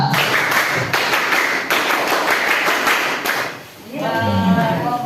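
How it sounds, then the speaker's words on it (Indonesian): A group of pesantren orientation participants claps together in a patterned scout clap (tepuk pramuka), sharp repeated hand strikes in rhythmic bursts, followed by voices speaking near the end. "Satu kali tepuk pramuka."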